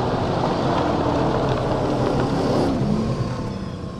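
Car engine from Cyberpunk 2077 gameplay roars and revs loudly nearby, a sustained rising whir that eases off toward the end.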